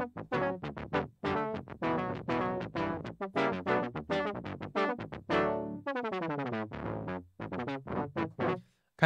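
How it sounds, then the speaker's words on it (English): OBXD synth pad played with reverb on, warm chords with a little saturated grit, sounding in a run of rhythmic swelling stabs that decay into reverb tails, with no talk over them. "This is with the reverb on, Ben."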